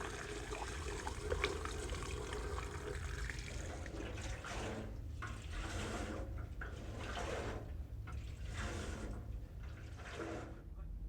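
Metal wash cleaning solution sloshes and swirls inside an old gas tank from a 1934 International pickup, a continuous watery churning with rhythmic surges and a low rumble underneath.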